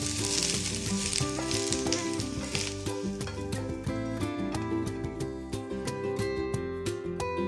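Chopped onion fries in a pan until brown, a bright sizzle running beneath rhythmic background music that largely dominates the sound.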